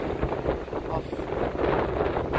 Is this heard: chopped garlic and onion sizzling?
no